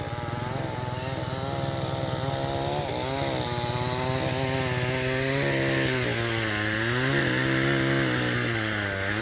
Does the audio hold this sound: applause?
no